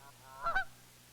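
A goose gives a single short honk, two quick nasal pulses close together, against a quiet background with a low steady hum.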